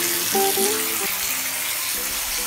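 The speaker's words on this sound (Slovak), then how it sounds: "Netreba napúšťať veľa vody." Warm tap water runs steadily into a bathtub to wash a guinea pig, a constant close rush of water with faint tonal squeaks near the start.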